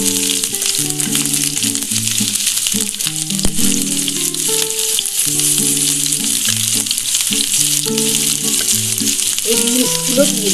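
Cauliflower, carrot, beans and capsicum sizzle and crackle steadily in a hot pan for vegetarian fried rice, with a continuous loud frying hiss and scattered stirring clatter beneath a melodic background music track.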